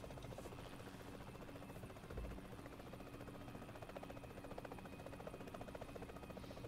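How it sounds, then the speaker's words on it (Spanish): Helicopter in the PUBG Mobile Payload mode, a steady rotor whir and engine drone holding at an even, fairly loud level for several seconds, with no talking. "Tengo el helicóptero un poquito jodido, ¿eh?"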